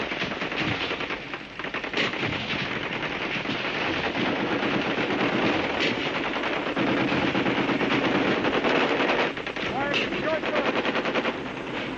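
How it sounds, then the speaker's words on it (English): Sustained machine gun fire rattles almost without pause for the whole stretch, loud and dense, during a Vietnam War bombardment of a river island village in the Mekong Delta. "After the broadcast came the bullets. The bombardment lasted a full hour."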